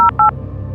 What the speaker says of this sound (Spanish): volvió a marcar un número en el teléfono